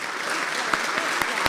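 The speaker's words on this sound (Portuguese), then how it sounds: "Muito obrigado e uma salva de palmas." Crowd applause at a civic celebration of the town's anniversary in Tomar, Portugal, with busy clapping throughout and a few sharper nearby claps standing out.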